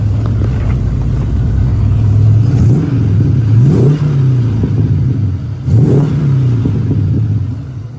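Classic Ford muscle car with racing gauges and power steering, its engine idling with a deep close rumble and rising through two strong revs before settling back, with no talk over it.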